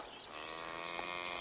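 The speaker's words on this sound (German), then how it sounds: "Das ist seit über 2 Jahren die erste Kuh," A cow gives one steady, drawn-out moo that holds for over a second, clear and fairly close, with no speech over it.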